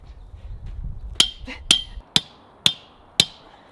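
A sledgehammer drives a metal T-post into the ground outdoors, five sharp ringing metallic clangs at roughly half-second intervals, close and loud against quiet surroundings.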